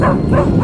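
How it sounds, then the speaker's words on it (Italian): A dog barking outdoors during snow shoveling, short repeated yaps close by and fairly loud, filling the brief moment on its own. "Chi è che abbaia?"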